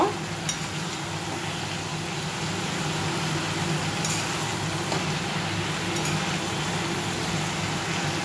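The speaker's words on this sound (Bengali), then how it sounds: "আমি এবার লাউগুলো ছেড়ে দিচ্ছি বন্ধুরা। একটু উলট পালট করে নেব।" Chopped bottle gourd sizzles steadily in a hot pan as it is stirred, a soft, even frying hiss with a few faint scrapes, moderately close and without talk.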